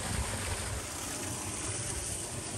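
Waterfall in a bonsai garden beside a pond, a steady broadband rush of falling water running throughout, moderately loud and close, with no talk over it.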